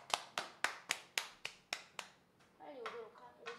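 A few people in a radio studio clap for a DJ after a set, eight crisp evenly spaced claps close to the microphone, then a voice speaks briefly.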